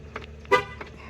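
A 2024 Chevrolet Silverado 1500 LT sounds one short horn chirp from the remote key fob lock, a single brief toot amid quiet outdoor background with faint clicks.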